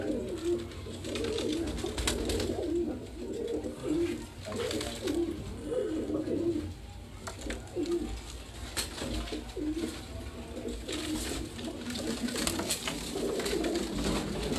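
Several pigeons coo continuously nearby on a rooftop loft in Larkana, Sindh, in soft, repeating throaty phrases, with occasional rustling and flapping in the background.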